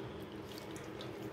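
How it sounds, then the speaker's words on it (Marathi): Water pours steadily into a bowl of crumbled leftover bhakri, a soft, continuous splashing stream, fairly quiet and close. "असं पाणी घालून घेतो"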